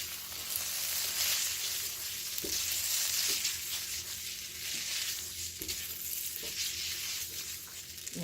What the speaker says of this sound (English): We're just going to stir fry them around with the garlic and the pepper flakes.